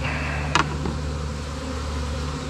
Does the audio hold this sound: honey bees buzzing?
yes